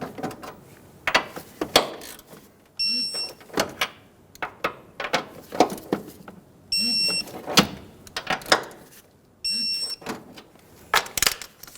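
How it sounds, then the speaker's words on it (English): Rapid ratcheting clicks from a torque wrench tightening 15mm transmission mount nuts on a 2000-2007 Ford Focus 2.0L, in repeated short bursts with brief bright tones between strokes, close and clear. "Torque the 15mm nuts to 35 foot-pounds."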